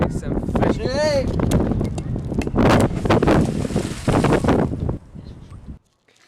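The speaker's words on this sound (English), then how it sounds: "It's really windy." Strong wind gusting outdoors beside a river during a fishing outing, a loud, steady roar buffeting the microphone while someone talks and calls out over it, cutting off abruptly near the end.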